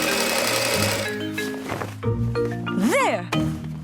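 A cartoon sewing machine stitching dress cloth gives a short, busy mechanical rattle at the start, then gives way to light music and other cartoon sounds.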